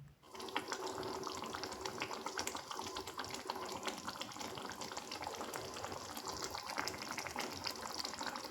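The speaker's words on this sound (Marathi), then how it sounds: "आता आपल्या गरजेनुसार पाणी घालायचं आहे" Water is poured steadily into a pan of ridge gourd curry, making a continuous close splashing and trickling rush for several seconds, with no talk.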